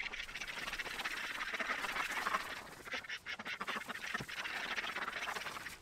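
A group of farm ducks quack continuously, a dense, overlapping chorus that sounds fairly close and steady throughout.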